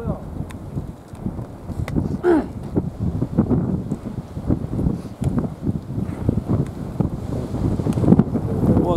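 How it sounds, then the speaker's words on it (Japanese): Wind gusting hard across an open ski slope at a GS race, buffeting the microphone with a continuous low roar that rises and falls, with a brief voice heard partway through. "うわ、風吹くな。"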